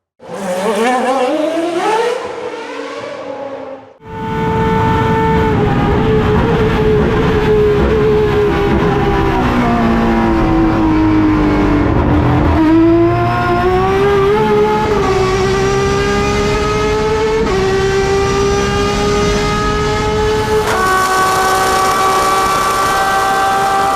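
Turismo Carretera race cars scream around the Rafaela oval. Loud, high-revving engines pass in quick succession, each whine sliding in pitch as it sweeps by close, with several distinct passes over a continuous roar.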